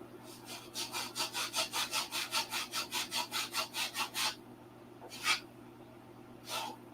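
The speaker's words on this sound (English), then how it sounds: "80 grit sandpaper" 80 grit sandpaper rubs back and forth over wood in a fast, even series of about eighteen close scratchy strokes, then two more isolated strokes after a short pause, with no one speaking.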